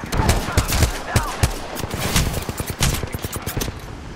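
Rapid gunfire from the video game Apex Legends: a dense string of sharp shots in uneven bursts, some close and loud, others quicker and lighter, carrying on throughout.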